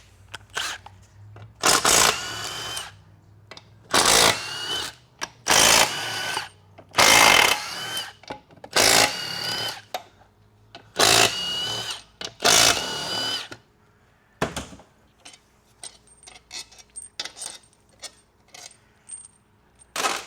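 A power tool in repeated bursts removes bolts from the extension housing of a 6L90E automatic transmission being rebuilt, each loud whirring run lasting a second or two with short pauses, then quieter clicks and handling noises toward the end.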